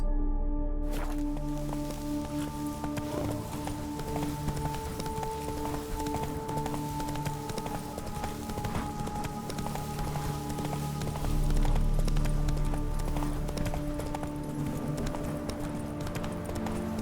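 Roach, the horse from The Witcher 3 game, galloping with rapid, rhythmic clip-clop hoofbeats over a low sustained game music drone, steady and close for the full length.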